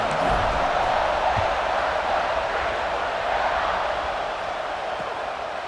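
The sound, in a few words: stadium crowd cheering at kickoff, from a college football video game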